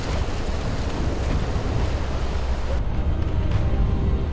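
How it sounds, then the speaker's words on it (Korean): Strong 26 m/s wind and four-metre sea waves at a winter coast where special forces train, a dense, loud, steady roar of gusting wind and surf that fills the whole clip without a break. "초속 26m의 강풍과 4m의 파도."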